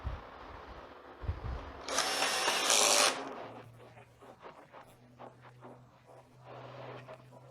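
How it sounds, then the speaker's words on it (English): A power driver runs in one loud whirring burst of about a second as a screw goes into a support bracket on a Samsung UN50NU7100G LED TV, followed by quieter handling clicks and a low hum. "Let's screw this support in."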